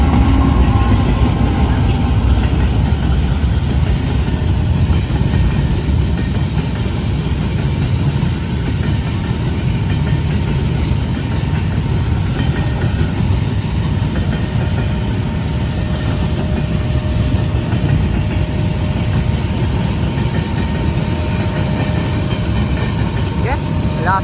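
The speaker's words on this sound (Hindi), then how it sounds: "डाउन कंटेनर ट्रेन आ चुकी है" A down container freight train on Pakistan's Main Line 1 rumbles steadily nearby, a heavy low engine drone and rolling wagon noise holding constant and loud with no break.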